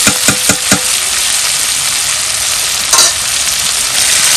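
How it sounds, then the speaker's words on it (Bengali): Greens fry in pure mustard oil with a loud, continuous close sizzle, marked by a few quick stirring scrapes at the start and another just before the final seconds. "একদম খাঁটি সরষের তেল দিয়ে রান্না হয়ে যাচ্ছে।"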